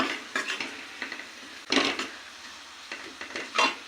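Spices for dal makhani tempering are roasted in a pan with a utensil, producing irregular scraping and clinking strokes over a faint sizzle, close by.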